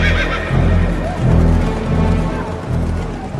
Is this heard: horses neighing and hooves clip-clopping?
yes